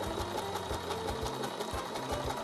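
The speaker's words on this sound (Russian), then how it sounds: "Конечно, мы загибаем буквально на сантиметр и по краю шьем таким образом" A sewing machine runs steadily while stitching a folded hem along the edge of a pareo, making a loud, close, rapid mechanical rattle that continues without a break.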